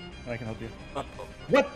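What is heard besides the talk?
dog enemy barking in a video game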